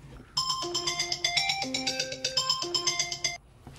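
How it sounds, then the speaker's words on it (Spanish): A phone ringing during a talk, a bright electronic melody of repeated tones that plays for about three seconds and then stops. "me sonó el teléfono como ustedes escucharon"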